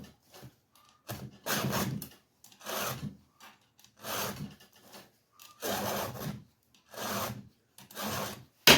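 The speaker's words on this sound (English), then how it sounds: "I can tell by the way that file wants to grab." A hand file rasps against the teeth of an Echo CS590 chainsaw chain in about eight steady, evenly spaced strokes, close and clear with short pauses between them.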